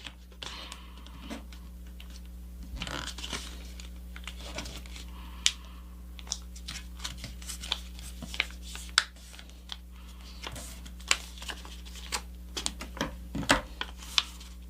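Paper crinkling and creasing as a paper airplane wing is folded over to match the first, with soft scattered crisp rustles and sharp little snaps close by, no one speaking.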